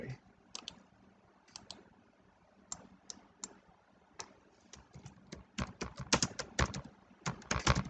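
Typing on a computer keyboard, with irregular bursts of clicking keystrokes that are sparse at first and grow denser toward the end, close and fairly quiet.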